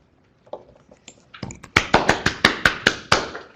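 At the end of a talk on choosing wisely for older adults in primary care, applause starts as a few scattered claps and swells into a louder round of clapping nearby.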